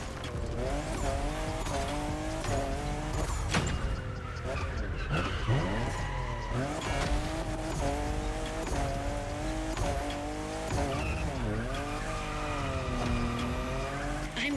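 Car drifting in The Crew Motorfest racing game, a steady loud engine roar with long wavering tire squeals sliding up and down in pitch, continuous throughout with music-like tones layered underneath.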